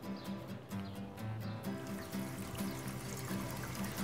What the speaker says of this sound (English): the water is coming down to metal, which gives it a different tinny kind of a sound